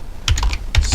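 Someone types on a computer keyboard at a console, a quick cluster of key clicks followed by a second short burst, close and crisp with no talking.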